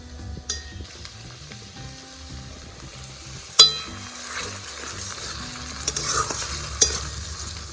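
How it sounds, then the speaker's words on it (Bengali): Green chillies frying in a pan for mutton ghugni, a steady close sizzle with stirring scrapes and a few sharp utensil clinks against the pan, no voices. "কাঁচা লঙ্কা কেটে রেখেছিলাম, একটু ভেজে নিচ্ছি।"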